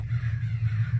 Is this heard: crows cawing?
yes